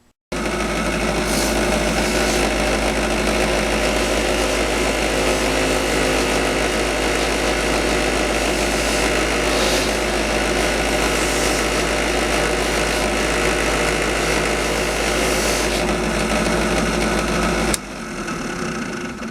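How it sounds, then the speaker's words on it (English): A drill press spins very soft Harbor Freight polishing pads at high speed on aluminum, a loud, steady whining motor hum running continuously before cutting off abruptly near the end. "These really soft pads, again, they're Harbor Freight, high speed in a drill press, and that does about the best job."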